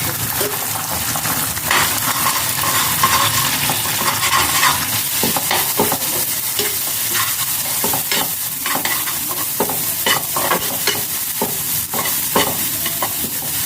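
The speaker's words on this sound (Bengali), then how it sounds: "একটু মাঝে তেল দিয়ে এবার একটু ডিম দিয়ে দিলাম এর মধ্যে।" Egg stirred into hot oil in a pan for Bengali dim tadka, a constant sizzle with repeated scraping clinks of a spatula against the metal pan, close and fairly loud.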